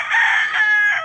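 Chickens on a farm where chicks are kept: a rooster or hen gives a short, loud, close call lasting about a second, with nothing else around it.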